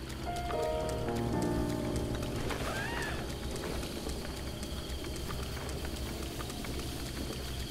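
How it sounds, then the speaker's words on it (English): Rain falls steadily in an open-world Zelda game, Breath of the Wild, easing into a gentle mist after earlier thunderstorms; a soft continuous patter sits under music-like tones and a few brief sounds. "The rain has become a gentle mist instead of the thunderstorms of earlier."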